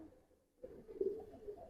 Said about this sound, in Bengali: একবার সম্পূর্ণ তুতার ভিতরে বুইড়া জাত কবুতর